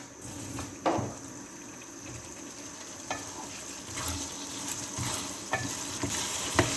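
Potato, mongray and pea curry frying and being stirred in a pan, with a steady close sizzle and occasional scraping stir strokes, no talking.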